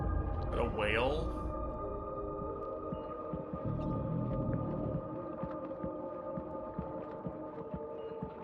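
Whale calls in the video game Death Stranding 2: a short pair of rising, sweeping moans near the start, then a long steady drone and scattered clicks under a constant low hum, with a voice speaking in the background.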